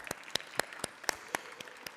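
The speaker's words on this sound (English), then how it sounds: "I think deserves a round of applause because that is hard" Sparse, distinct claps from a small audience at a virtual awards show, about ten sharp hand claps in a loose rhythm over a quiet background.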